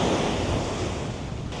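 Strong wind gusts across a microphone on Boracay's back beach, a loud continuous roar with surf rushing underneath and no voices.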